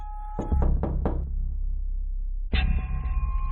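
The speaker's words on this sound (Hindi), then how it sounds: "गुल्ली एक बार फिर से दरवाजा खटखटाता है" Someone knocks on a house door late at night: a quick run of four close, solid raps, a pause, then another knock. No voices are heard.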